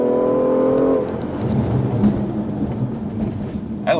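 A 2016 BMW M2 powers out of a track corner, its engine note dropping and then surging into a rising growl over a few seconds, with wind buffeting and a brief clunk near the end.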